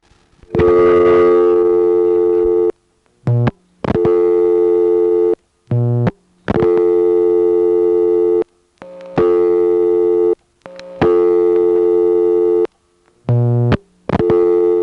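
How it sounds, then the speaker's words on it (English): Semi-dial tone on a 1977 senderized step-by-step telephone exchange in Monroe, New York: a loud, steady buzzing tone heard alone, broken by short silent gaps at irregular intervals. "It's semi-dial tone first, just like the last stop."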